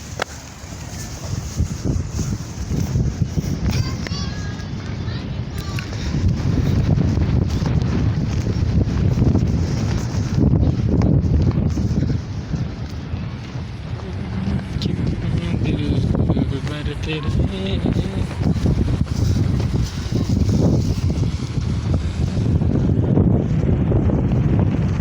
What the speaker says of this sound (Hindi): ये देखिए कितनी तेज हवा है।